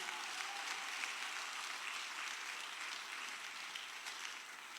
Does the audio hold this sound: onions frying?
no